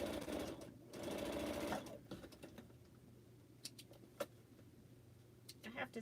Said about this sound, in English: We're sewing piece number 11.